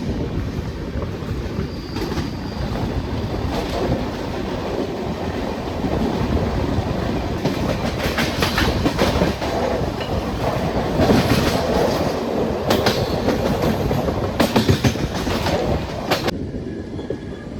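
Heard from inside a sleeper-class carriage, the Thiruvananthapuram Central Express runs on rails with a loud, constant rumble and clickety-clack of wheels over the track.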